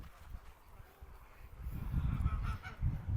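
Geese honk in a loose cluster over a low rumbling background, the calls getting louder and busier toward the end.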